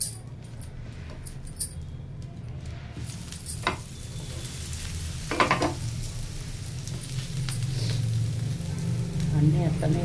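Bread pieces fry in oil for double ka meetha, a soft steady sizzle with occasional clinks and scrapes of a utensil, while someone talks over the cooking.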